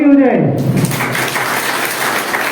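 A live audience at an Ayurveda business meeting breaks into applause, a dense wash of clapping that follows a brief spoken word and carries on loud and steady to the end.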